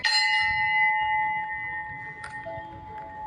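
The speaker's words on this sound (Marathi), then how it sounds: "आता पण एक घंटा आहे." A bell at a Shri Krishna temple rings out with one bright struck tone that hangs and slowly decays, followed by a softer second strike and lingering ringing.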